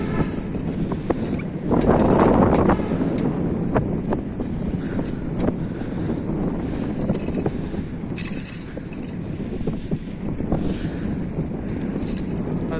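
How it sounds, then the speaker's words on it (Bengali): Gusty wind on a foggy morning buffets the microphone in a constant low roar, swelling louder for a moment early on, with faint distant traffic-like rumble underneath. "আর অবশ্য বাতাসও হচ্ছে"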